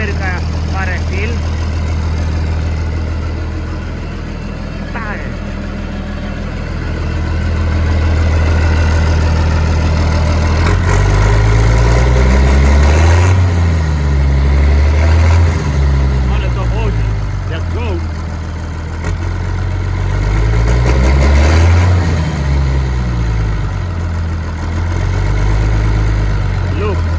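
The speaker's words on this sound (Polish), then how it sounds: "Deutz zamontowany, już pyrka parę chwil." A freshly installed Deutz diesel engine idling in a repair workshop, a loud, deep, steady rumble that later swells into a heavier, pulsing throb, with people talking over it.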